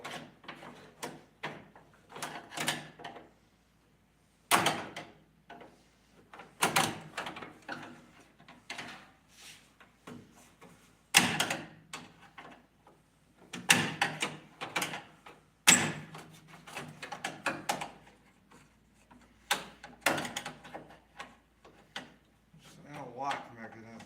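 Chevy van door handle and lock mechanism worked repeatedly, giving sharp mechanical clunks and latch clicks at irregular intervals, with a voice talking between them.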